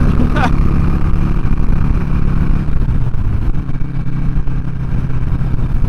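A Harley-Davidson Sportster 883 motorcycle accelerates on a test ride, its engine roaring steadily and loudly close by with wind noise, briefly rising in pitch during the opening moments.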